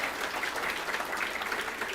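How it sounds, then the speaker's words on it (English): A conference audience at a Hispanic farm and rancher gathering in Texas claps in a steady, dense wash of applause that fills the room evenly without a break. "I'd really like to give a round of applause for that"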